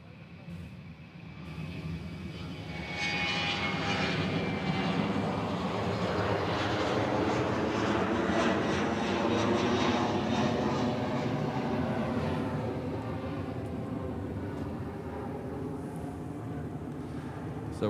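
F-22 fighter jets roar overhead during the Sentry Aloha exercise in Hawaii, the engine noise swelling to a loud sustained rumble and slowly fading, heard alone without voices.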